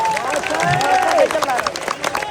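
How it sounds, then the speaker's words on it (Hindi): Students at a protest in Eco Garden, Lucknow, clapping loudly in a crowd, a dense patter of hands under a raised voice and crowd noise. "मैं चाहता हूँ अंकित सर के लिए जोरदार तालियां बजाना चाहेंगे।"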